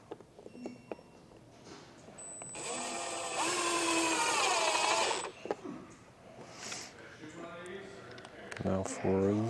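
A power driver whirs as it drives screws into a trailer brake controller bracket, with one sustained high-pitched run in the middle, short bursts before and after, and a voice talking around it.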